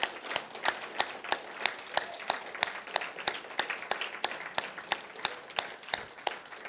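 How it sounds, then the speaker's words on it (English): Audience applause after a poetry reading at a fellows' showcase, a steady burst of many hands clapping in a dense, even patter that holds at a fairly loud level throughout, with no voices over it. "Please join me in a huge round of applause for Starr-McClain"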